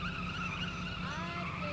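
Tires squeal continuously as a car skids during parallel parking in The Saboteur video game, a steady whining screech with a low engine rumble underneath.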